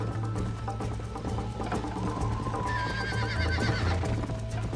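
During a race, horses gallop in a rapid drumming of hooves while one gives a loud, shrill whinny that rises and trembles before fading, with no talking.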